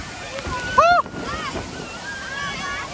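Water gushing and spraying from Gorur Dam, a broad roaring rush of spray like heavy rain with wind buffeting the microphone, a short sharp shout cutting through and people talking faintly in the background.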